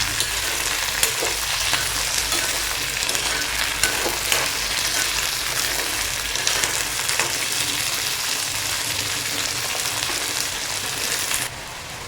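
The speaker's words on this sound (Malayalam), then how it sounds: "നമ്മൾ പയർ വെള്ളമൊഴിച്ചൊന്നും വേവിക്കുന്നില്ല അപ്പോൾ ഈ എണ്ണയിൽ കിടന്ന് കിടന്ന് മുരിഞ്ഞ് കിട്ടണം" Green beans fry in hot oil in a pan, a steady close sizzle and crackle running throughout with occasional stirring scrapes, no voices.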